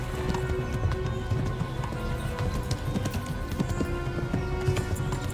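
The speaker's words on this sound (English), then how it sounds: "Need you to run a little faster, horsey." A horse runs at full speed with rapid, steady clip-clopping hoofbeats close by, continuous throughout, with a faint voice now and then.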